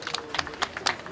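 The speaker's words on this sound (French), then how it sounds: "Applaudissements s'il vous plaît." Scattered clapping from a small group at a pétanque tournament prize ceremony, sharp distinct claps in a loose uneven rhythm, moderately close and fairly quiet, with no talking.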